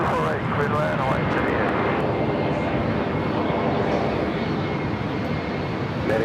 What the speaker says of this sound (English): This next arrival is Delta Connection 3969 coming in from San Jose on the E175